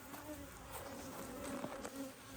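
Honeybees buzz steadily at an open hive during a split to prevent swarming, a close, continuous drone with rising and falling swells from individual bees flying near.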